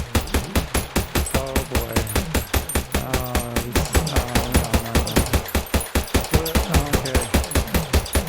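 Rapid automatic gunfire in a zombie video game test build, a dense, steady stream of shots with clinking casings and game effects lasting the whole stretch, as a voice briefly reacts over it.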